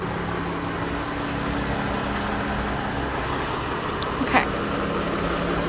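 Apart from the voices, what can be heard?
Mercedes-Benz Sprinter RV van engine running while repositioning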